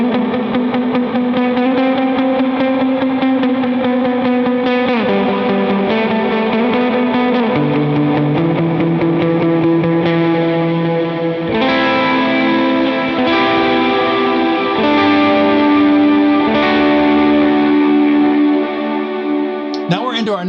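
Distorted electric guitar playing a song's pre-chorus, sustained heavily effected chords with chorus and echo shifting through several changes, loud and continuous with no talk over it.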